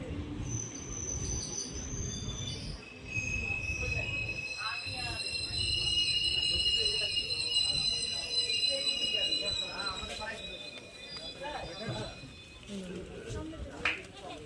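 A crowded passenger train at a station, with high metallic wheel squeal in long sustained tones over a steady rumble and clatter, while people talk and call out nearby throughout.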